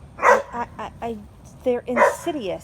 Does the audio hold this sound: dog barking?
yes